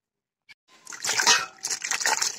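Washed soya chunks are squeezed by hand, a small tap followed by wet sloshing and the splatter of water being pressed out and dripping, close and brief.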